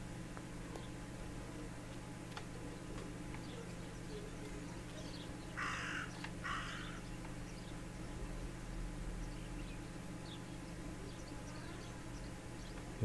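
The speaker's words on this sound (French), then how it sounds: "Pourquoi ce corbeau n'arrête pas de croasser?" A crow caws twice in the video game Martha Is Dead, two short harsh calls in the middle over a steady low ambient hum, moderately loud and fairly close.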